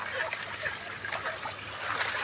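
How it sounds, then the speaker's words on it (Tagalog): Cold irrigation water runs steadily through a rice paddy, a continuous soft rushing and splashing flow heard up close without a break. "Pang palay ito mga idol, itong tubig na to."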